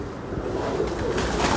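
A pigeon cooing up close, a short low throaty burble that swells briefly.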